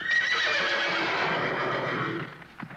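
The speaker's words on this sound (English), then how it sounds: "You put a horse neigh in there." A horse neigh sound effect, a single loud whinny with strained, wavering tone sustained for over two seconds before trailing off, alone with no talk.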